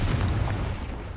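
A Confringo blasting spell explodes in Hogwarts Legacy, a heavy booming detonation with deep rumble that hits hard at once and trails off within about a second.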